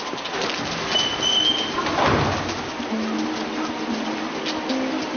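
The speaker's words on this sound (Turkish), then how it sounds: "Güvercinlerimiz de var bak." Pigeons cooing outdoors amid a soft, rain-like background hiss, with a few low coos and faint bird calls at moderate level and no speech.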